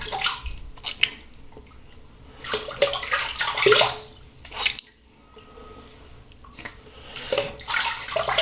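Water runs and splashes as a Gem Jr SE safety razor is rinsed after a shave with soap, heard as close bursts of running and dripping at a sink, with a brief quiet gap midway and no talk.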